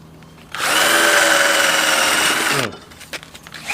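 A power drill bores through concrete formwork for a reinforced-concrete lintel, a loud, steady high whine lasting about two seconds before winding down, followed by faint clicks and handling sounds.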